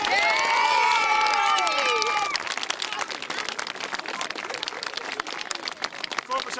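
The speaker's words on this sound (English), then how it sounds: "give both teams a great round of applause for a terrific game of football" Crowd applauding and cheering after an under-12 Gaelic football final between Moynalvey and Moynalty in Meath, a dense burst of clapping and shouts with a voice over the opening seconds, then scattered claps fading lower.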